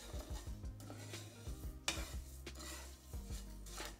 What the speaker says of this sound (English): We're going to roast these for under a minute.